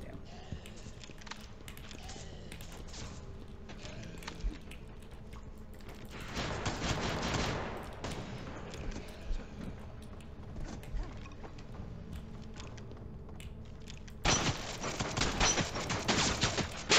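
Revolver gunfire in the video game Dead Cide Club, bursts of rapid shots in two loud clusters against a quieter background of game clatter and faint talk.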